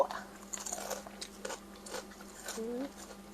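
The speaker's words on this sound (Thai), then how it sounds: "แคบหมูกรอบกรอบ" Crispy pork rinds bitten and crunched during a spicy Thai-Lao meal, several crackly bites and chews heard close up, with a person talking over and between the crunches.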